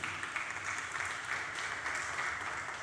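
Sustained applause from a large church congregation, even and continuous, with no single claps standing out.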